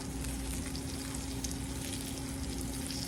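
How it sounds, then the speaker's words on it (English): A flour-rubbed, salt-and-peppered oven roast browns in a hot pan, giving a steady, close, dense sizzle and frying hiss that holds without a break and with no voices. "we're going to let it sit here and brown"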